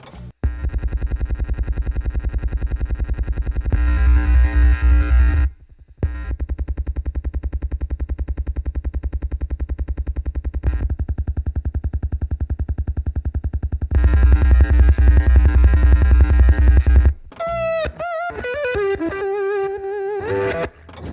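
An electric guitar runs through a reverse delay effect, producing swelling, sustained distorted tones in long loud blocks with abrupt cutoffs, then ending in a burst of gliding, warbling pitches.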